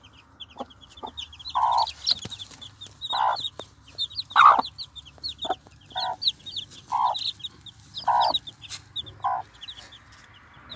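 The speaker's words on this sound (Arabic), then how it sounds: "ثمان كتاكيت مال دجاج، ثمان فراخ" Eight day-old Arabic chicken chicks give repeated high peeping calls, a steady run of short chirps and a few louder ones, close and alone against a quiet background.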